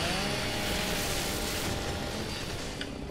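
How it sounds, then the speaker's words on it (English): A chainsaw cutting through boxes in a video game, heard as a dense, continuous roaring buzz with a gritty texture that holds steady and then eases slightly toward the end, with no talking. "And chainsaw these boxes right there."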